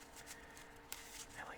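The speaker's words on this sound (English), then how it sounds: "I just love shuffling decks." A Magic: The Gathering card deck is shuffled up close, quiet riffling bursts and soft card slaps in a hushed setting, with faint murmuring in the background.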